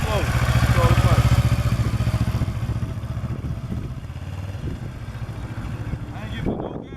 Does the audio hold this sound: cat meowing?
no